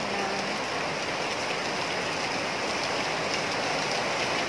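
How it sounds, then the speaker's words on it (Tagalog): Heavy storm rain pours steadily in a dense, loud hiss of drops hitting surfaces nearby, unbroken throughout with no voices. "lumakas na yung ulan"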